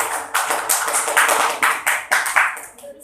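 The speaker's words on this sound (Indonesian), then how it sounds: "Beri tepuk tangan pada" Students in an eighth-grade Islamic jurisprudence class clap for a classmate in a series of quick, rhythmic bursts, close and fairly loud, with a brief pause before the last few claps.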